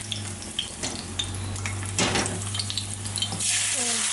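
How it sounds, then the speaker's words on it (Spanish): Chile fries in a little oil in a pan while being stirred, a steady close sizzle with scraping and clinks of the utensil against the pan, loud and continuous. "Como le echamos poquito de aceite, le tienes que mover para que se fríe"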